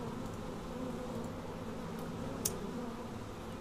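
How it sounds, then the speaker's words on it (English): Bees in the game Sumatra: Fate of Yandi keep up a steady, low buzzing hum throughout, with one faint brief click partway through and no talking. "We're smoking away the bees."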